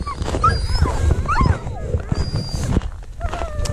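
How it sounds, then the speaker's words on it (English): Sled dogs in Arctic Greenland being readied for a fishing trip whimper, yip and whine excitedly up close, high-pitched cries overlapping with scuffling and bits of nearby human voices. "getting the dogs ready."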